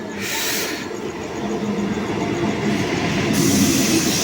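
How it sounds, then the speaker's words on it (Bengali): A train bound for Howrah, Kolkata, rolls along steadily with a continuous rumble and clatter, heard from inside, with no talking. "ট্রেনে যাচ্ছি"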